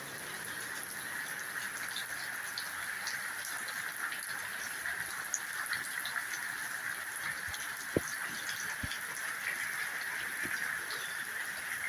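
Steady broadband rush of floodwater flowing outdoors during heavy rain in Jaffna, a continuous wash with scattered drips and a couple of sharp knocks, no talk over it.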